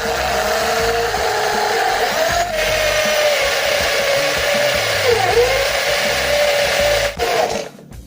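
A handheld drill cuts with a carbide hole saw, giving a steady, loud, continuous whine with slight pitch wavers throughout, then stopping abruptly near the end.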